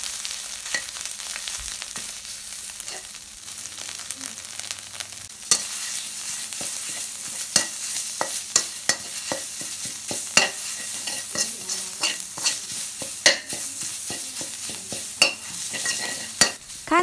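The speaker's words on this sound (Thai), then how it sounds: "ใส่เครื่องแกงลงไปขั้นตอนนี้ค่ะเราจะผัดเครื่องแกงนะคะให้หอม" Southern Thai curry paste is stir-fried in a little hot oil in a pan. A steady bright sizzle runs throughout, broken by repeated sharp scrapes and clinks of a utensil against the pan. It is close and continuous, with no speech.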